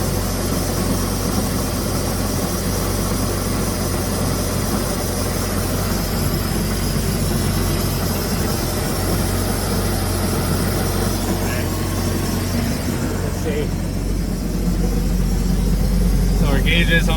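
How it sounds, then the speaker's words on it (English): A 2008 Bayliner 185 boat engine idles at about 1500 rpm with a steady, even low hum that continues throughout, loud and close, with no voices. "It's idling a little, about 1500 right now."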